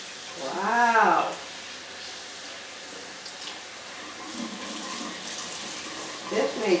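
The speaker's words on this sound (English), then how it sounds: "I'm going to try some water in here" Water is poured into a porous pot of Phalaenopsis orchid bark during repotting, giving a faint, steady wash of trickling noise, preceded by a brief voiced sound near the start.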